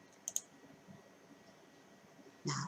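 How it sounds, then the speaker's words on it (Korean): Two quick computer mouse clicks tap close and quiet, and a brief louder click-like burst follows near the end over a faint steady hum. "작업 보기 클릭."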